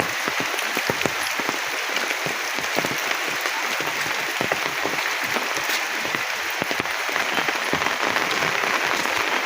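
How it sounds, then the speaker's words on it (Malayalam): Heavy monsoon-style rain pours down in a dense, loud, crackling patter that stays constant throughout, with no talking. "ആഹാ അടിപൊളി മഴ"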